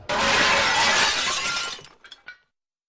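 A mirror by a bar shatters in one loud, close burst of breaking glass that fades into a few scattered tinkling fragments before silence.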